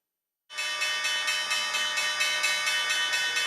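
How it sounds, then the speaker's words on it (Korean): The New York Stock Exchange closing bell rings continuously amid a crowd on Christmas Eve, a steady bright metallic peal that starts abruptly and holds at even strength to the end. "뉴욕 증시 폐장을 알리는 종이 울립니다"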